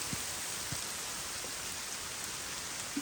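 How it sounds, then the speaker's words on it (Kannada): Steady rain falls at a campsite, a constant close wash of drops with a few faint thuds mixed in; no voices. "ಏನಾಗಲ್ಲ ಪುಟ್ಟ, ಮಳೆ ಬಂದಷ್ಟೇ"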